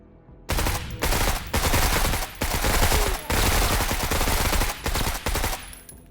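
Sustained bursts of automatic gunfire in the tactical video game MENACE, loud and dense, firing in several long volleys separated by brief gaps, with no talk over it.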